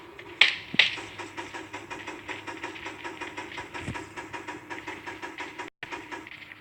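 Vehicle engine idling and driving in the game PUBG, a steady mid-pitched rumble with regular pulsing throughout, preceded by two sharp clicks near the start.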